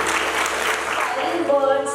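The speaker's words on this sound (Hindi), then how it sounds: "सबसे पहले सर के लिए बहुत जोरदार ताली की जरूरत है" Applause from an audience at a school program greets a speaker, a short burst of clapping mixed with voices and a faint tonal sound near the end.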